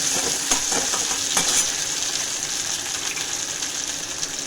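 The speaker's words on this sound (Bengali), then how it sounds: "এখন এর মধ্যে আমি দিয়ে দেবো টমেটো কুচিগুলো" Chopped tomatoes frying with browned onions in a pan, a constant close sizzle with a few stirring scrapes near the start, no voices.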